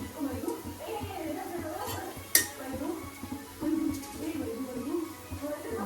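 A spoon stirring cowpeas with spices in a metal cooking pot, clinking and scraping against the sides with one sharp knock, close by, with a voice speaking over parts of it.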